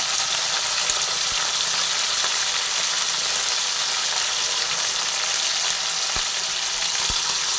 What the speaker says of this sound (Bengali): ভালোভাবে নাড়াচাড়া করে ভেজে নিচ্ছি